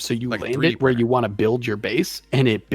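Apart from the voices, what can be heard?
No everyday noise stands out behind the speech.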